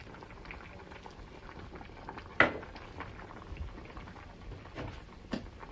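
Tuna kimchi stew boiling in a pot, a steady low bubbling with soft pops and one sharp clink of a utensil against the pot.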